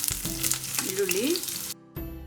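Onion and green chillies frying in a spoonful of oil for a village-style bassaru tempering, a soft steady sizzle with faint stirring, briefly cut off near the end.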